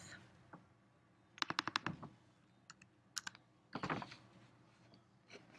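Typing on a computer keyboard while entering a value: short quick bursts of crisp key clicks, a fast run of several taps, then scattered single presses and another cluster, close and fairly quiet.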